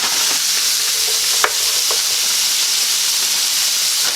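Broccoli goes into a hot pan of shrimp scampi, giving a steady close sizzle and hiss with a few sharp crackles and pops.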